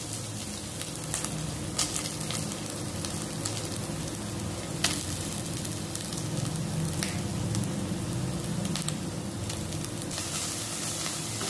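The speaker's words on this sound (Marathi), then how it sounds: "खोबरं हाय फ्लेमवर सतत परतत राहून भाजून घ्यायचं आहे." Grated coconut roasts in a pan over a high flame, a loud steady sizzle with scraping stir sounds throughout and no speech.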